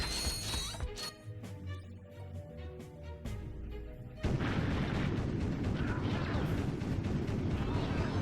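Turret fire and booming impacts in the video game Ratchet & Clank 2: Going Commando, heavy thuds and mechanical clanks over music, then a dense continuous roar of blasts in the second half.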